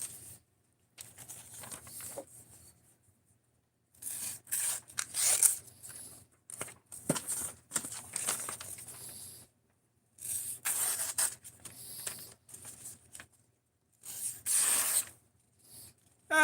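A very thin, slicey knife blade cuts through material in repeated scraping and hissing passes, each stroke lasting a second or two with brief silent gaps between them, close and moderately quiet.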